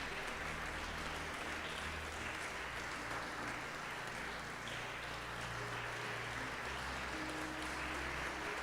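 Faint, steady applause from a church congregation at a Portuguese-language evangelical service, a dense even patter of clapping that holds level to the end.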